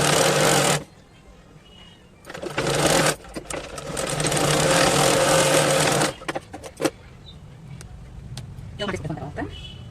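A sewing machine stitches a folded hem on baby clothing, running in several bursts of steady whirring between short pauses, with a voice talking in between.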